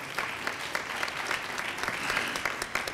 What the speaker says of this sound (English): Let's give Jonathan a round of applause for his work